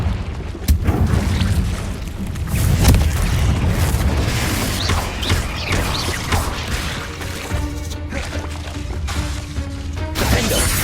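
Loud, booming spell explosions from the Confringo fire spell in the Hogwarts Legacy video game, several blasts and crashes in quick succession inside a cave, layered over ongoing combat effects with no talk.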